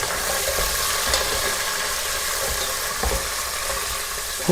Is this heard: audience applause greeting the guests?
no